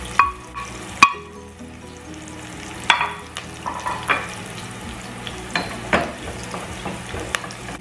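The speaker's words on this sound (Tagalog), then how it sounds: "Gisahin lang po natin yan ng mga 30 seconds o pa maamoy natin yung kanyang aroma." Garlic sautéing in a pan with a soft continuous sizzle, punctuated by sharp clinks and scrapes of a utensil stirring against the metal, close up with no speech.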